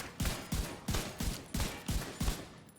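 Rifle fire in the video game The Division 2 rings out in a steady series of about eight evenly spaced heavy shots, loud and close, with no talk over it.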